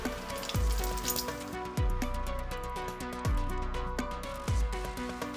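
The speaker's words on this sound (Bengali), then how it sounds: "তেলের মধ্যে দিয়ে দেবো ফোড়নের জন্য হাফ চামচ কালো জিরে আর দিয়ে দিচ্ছি 2টো শুকনো লঙ্কা" Black cumin seeds and two dried red chillies sizzle in hot mustard oil, a soft steady crackle with light clinks of a pan and spoon, close and quiet.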